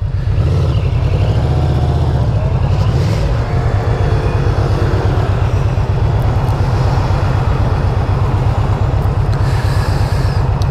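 Street traffic rolls through a city neighbourhood while riding a Vmax motorcycle, a dense continuous low engine drone with passing vehicles layered over it, loud and close throughout without pause.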